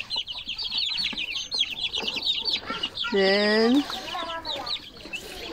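White curly-feathered farm chickens cluck and chatter close by in a busy run of calls, including one louder drawn-out squawk midway, and a person speaks a single brief word.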